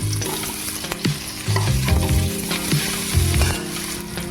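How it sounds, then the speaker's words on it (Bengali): Vegetables fry in a wok with a continuous close sizzle, broken by repeated scraping and clanking of a stirring spoon against the metal. "তো কড়াই বসিয়ে দিয়েছি, এখন একে একে সবজিগুলো ভেজে নেব।"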